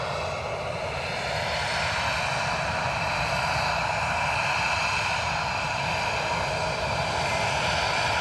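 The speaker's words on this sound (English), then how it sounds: "I'm talking against the noise of the plane" An EasyJet airliner arriving at Edinburgh Airport, its engines a loud, steady roar that holds unbroken throughout with no voices over it.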